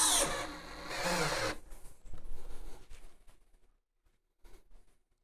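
A power drill tightening a bit while bits are being switched, heard as a short, loud whirring burst followed by a few brief tool clicks and handling noises, with no one speaking.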